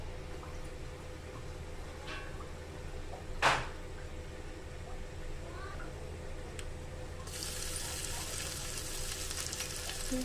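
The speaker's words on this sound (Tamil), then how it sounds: "இடித்து வச்ச பூண்டு, காஞ்ச மிளகாய் அதையும் போட்டு வறுத்துடுங்க" Crushed garlic and dried chillies frying in a pan for tomato rasam, a soft steady sizzle with one sharp clatter and a hiss that swells louder near the end.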